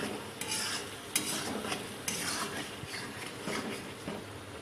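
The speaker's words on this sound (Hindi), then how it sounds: "अब हम इनको इस तरह मिक्स कर लेंगे।" A spoon stirs softened tomatoes and spices in a cooking pot for chicken handi, soft sizzling underneath with several clinks of the spoon against the metal pot, close and steady.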